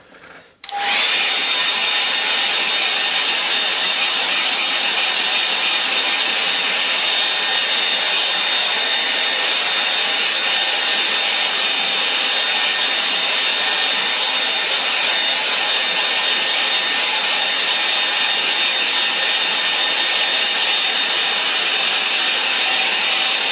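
A hair dryer blows hot air to dry paint, starting after a brief click and running loud and steady for over twenty seconds without pause, a constant broadband whoosh with a faint whine.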